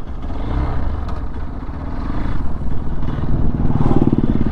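Hero XPulse 200 motorcycle engine pulls away in first gear, a steady rumbling drone rising slightly as it accelerates, close with wind noise.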